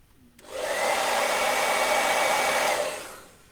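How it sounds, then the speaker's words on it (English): A hair dryer switches on, blows with a steady loud whoosh for a few seconds warming an RC car body shell, then winds down. "So a little bit of a hairdryer on it."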